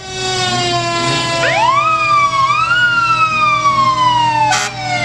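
A fire truck siren in a county fair parade winds up and wails loudly, its pitch rising and falling over sustained horn-like tones, close by, with a brief burst of noise near the end.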